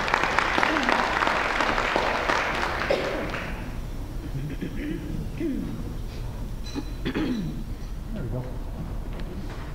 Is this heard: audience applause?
yes